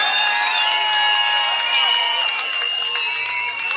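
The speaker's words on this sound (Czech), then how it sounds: "Kamarádi, zatleskejte Karlíkovi" A concert crowd at a live rock show applauds and cheers for the band's guitarist. The clapping is dense and continuous, with whoops mixed in, and it fills the hall at steady loudness.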